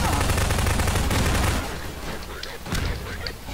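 In cooperative Half-Life 2 play, dense rapid gunfire rattles loudly at first, then eases into softer scattered shots with a sharp crack near the end.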